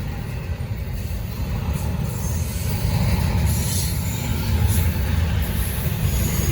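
A Norfolk Southern freight train rolls past close by with open container cars, a loud continuous rumble of wheels and rattling cars with intermittent high metallic squeals.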